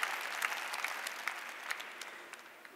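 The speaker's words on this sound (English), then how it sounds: "you can clap for that" A seated audience at a speaking event at the Pepsi Center in Denver claps in a soft, fairly distant round of applause that fades gradually over a few seconds.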